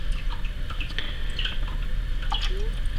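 Water trickles and drips steadily from a bell-less aquaponic siphon tube, a continuous close wet babble with small splashy drips and a low hum beneath.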